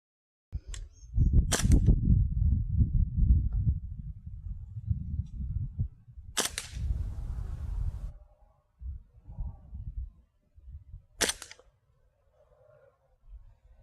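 A Springfield Armory M1 Carbine CO2 BB gun fires three sharp, well-spaced cracks, each followed by rumbling handling noise and faint clicks at close range, with no talk.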